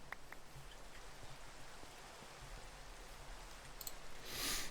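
Steady Minecraft rain falls as a soft, even hiss across the whole stretch, quiet and continuous, with a brighter burst of noise near the end.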